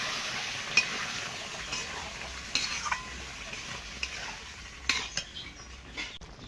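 Curry ingredients go into fried spice paste in a pan for an egg curry with dal and potato, sizzling steadily while a utensil scrapes and clinks against the pan in scattered knocks, with no talking.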